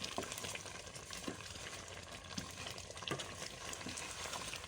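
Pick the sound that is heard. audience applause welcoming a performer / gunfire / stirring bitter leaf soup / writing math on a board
stirring bitter leaf soup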